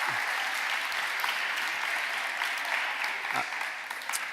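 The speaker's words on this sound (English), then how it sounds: "give her a round of applause." Steady applause from an audience at a launch event for a middle school basketball league, as a continuous, moderately loud stretch of clapping without a break.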